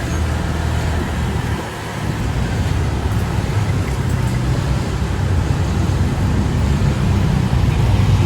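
Road traffic heard from a moving motorcycle during a delivery ride, a dense, steady, loud roar of engines and wind rumble that continues throughout with no talk.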